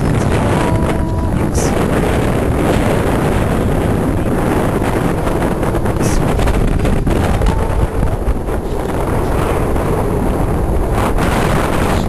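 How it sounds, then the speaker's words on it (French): Strong, steady wind buffets the microphone at a bivouac campsite on the Mýrdal area during a trek across Iceland, a loud continuous roar with gusts throughout and a brief voice near the start. "il y a un peu de vent pour l'instant, j'espère que ça va pas trop se lever"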